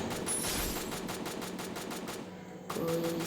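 Rapid automatic gunfire from a sniper battle in the mobile shooter game Free Fire, a dense run of loud repeated shots with a sharp burst near the end, no talking over it.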